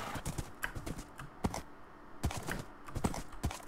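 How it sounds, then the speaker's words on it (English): A steady run of hoof clip-clops comes from a horse ridden in Minecraft, quick and evenly paced, close and moderately loud, with no talking over it. "I'm gonna get on my horse real quick"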